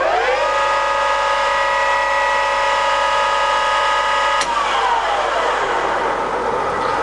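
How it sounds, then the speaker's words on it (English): A Tos SN40C centre lathe runs at high speed with a loud, steady whine carrying strong tonal harmonics, then shifts gear with a sharp click and winds down to a lower, smoother hum. No one speaks. "So you can see there all through the gear range it's really, really quiet and nice."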